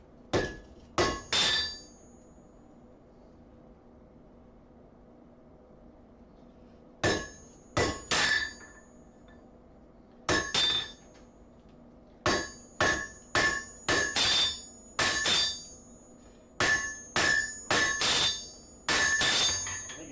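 A hammer strikes hot metal while a spatula is forged, sharp ringing clinks in quick bursts of two to five blows separated by pauses, close and loud.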